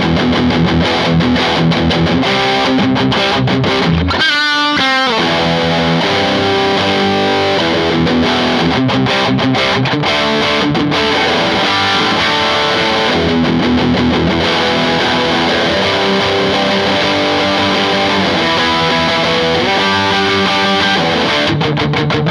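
Pink Sterling Cutlass CTSS30HS short-scale 24-inch electric guitar played through heavy distortion, with loud, sustained driven chords and riffs running continuously, a brief break near the start, no voices.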